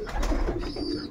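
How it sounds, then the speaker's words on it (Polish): Pigeons coo softly nearby, a low murmuring call in a brief moment. "fajne gołąbki"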